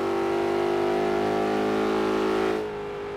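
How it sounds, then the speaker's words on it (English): A supercharged V8 Aston Martin V8 Vantage V600 engine in the video game Forza Horizon 3 holds a loud, sustained high-revving whine, then cuts off abruptly into a quieter drone near the end. "you can hear the slight little twang of the supercharger"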